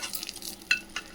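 Fried Maggi noodles being stirred with masala in a pan, a few soft scraping strokes and a light sizzle, close and fairly quiet.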